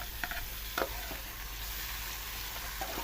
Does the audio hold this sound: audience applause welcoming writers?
no